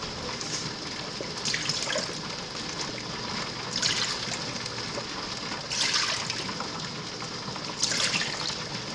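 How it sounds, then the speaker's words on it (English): Water poured from a measuring cup into a pot during home canning of pickled jalapeños, a steady trickling fill broken by four louder gushes spaced a couple of seconds apart, close and without talk. "I am going to add 4 cups of water."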